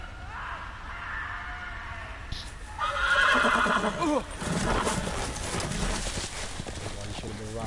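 A horse whinnies loudly and its hooves clip-clop in a medieval fantasy drama scene, the neigh rising over hoofbeats while people talk around it.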